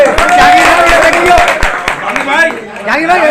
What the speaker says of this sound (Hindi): जहांगीर ताली बजाओ